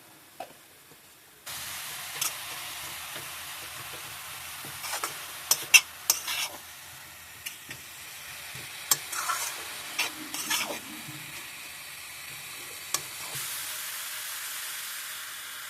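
Carrot halwa being stirred in a pan, with a steady sizzling hiss under repeated scraping and clacking strokes of a spoon, fairly close and moderately loud, with no talking.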